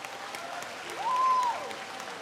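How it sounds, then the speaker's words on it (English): Applause from an audience at a celebration honoring performances, a soft steady patter of clapping heard at a distance with a sustained tonal hum rising briefly in the middle. "join me in the final round of applause for all the excellent performance"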